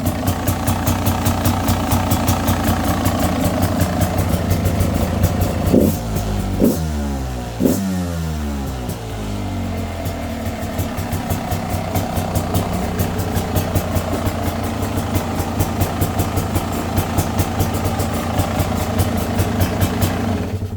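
Close and loud, a 2025 Beta 300 Race S3 dirt bike idles with a steady popping two-stroke beat, briefly blipping and dipping in pitch midway before returning to an even idle.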